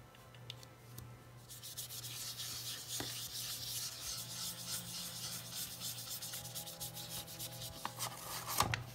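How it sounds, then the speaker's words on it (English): An anti-static powder tool is rubbed over cardstock ahead of heat embossing, a soft, continuous brushing and scuffing close up, fairly quiet, with small taps at the start and end. "We're going to be doing some heat embossing, so I'm going to bring in our powder tool."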